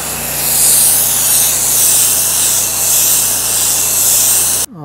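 Steady broadband spray of a pressure washer rinsing a walkway outdoors in rain, a continuous loud hissing wash that holds for several seconds before cutting off abruptly at the end.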